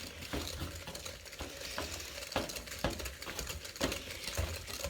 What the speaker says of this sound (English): Stir him on in there.